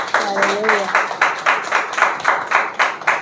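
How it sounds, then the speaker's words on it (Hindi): Church congregation clapping loudly during a Sunday worship service, steady rhythmic hand claps repeating through the clip, with a sustained voice or tonal sound underneath at the start. "तो जोरदार तालियां बजाएंगे प्रभु की महिमा के लिए।"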